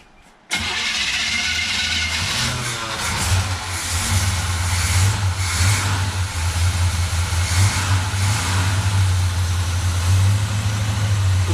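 A 1957 Chevy Bel Air engine, run for the first time in thirty years, cranks and catches, then settles into a loud, rough, uneven idle with occasional revs close by.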